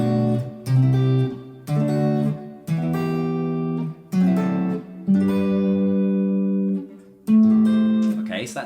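A sequence of about seven strummed guitar chords in A Dorian, each ringing out for roughly a second before the next, clear and close with no talking.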